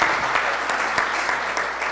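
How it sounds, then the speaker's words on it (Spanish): Steady round of audience applause for speakers at a training-models presentation, dense even clapping close by with no pauses. "a quien pedimos un aplauso"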